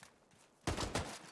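Gunfire in True Combat: Elite comes as a short, quiet burst of two quick shots.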